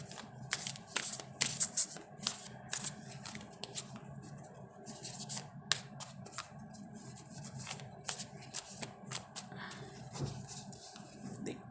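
Oracle cards being shuffled up close, a steady run of crisp riffling and slapping bursts with brief pauses, alone and fairly quiet.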